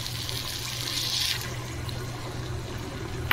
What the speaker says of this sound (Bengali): জল অ্যাড করে দিলাম মশলার বাটি দিয়ে